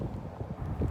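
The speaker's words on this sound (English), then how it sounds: "It's windy in the parking lot." Wind buffets the microphone in a parking lot, producing a constant low, rumbling roar with uneven gusty swells and no other clear sounds.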